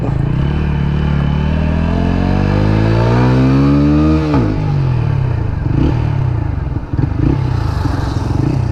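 An Apache RTR 160 4V motorcycle engine revs up in a rising whine, drops sharply back to idle, then burbles unevenly, loud and close.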